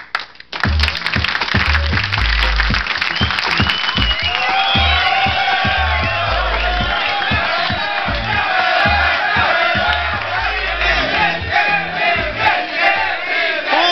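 Studio audience cheering, whooping and shouting as a contestant named Ana is called forward: a loud, sustained crowd roar with high excited whoops layered over it from start to finish.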